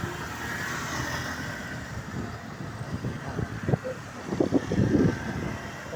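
A car rolls along a highway toward Nueva Ecija near San Miguel, Bulacan, with a steady low engine and road rumble from inside and a few heavier whooshes of passing traffic toward the end.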